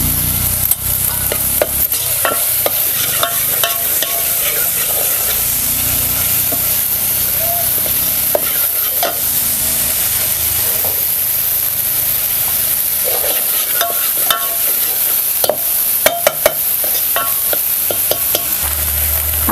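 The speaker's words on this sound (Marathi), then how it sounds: "हे खोबरं आपल्याला भाजून घ्यायचं आहे" Grated coconut roasting in a pan with steady scraping and stirring, a dry crackle and hiss running the whole time, near and fairly loud, with no talk.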